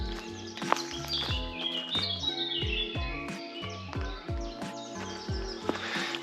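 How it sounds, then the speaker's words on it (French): Birds sing in the Ardennes countryside between the Lesse and Lomme rivers, with close, busy chirps and trills layered over lower tonal notes in an otherwise calm outdoor setting. "On entend les oiseaux derrière."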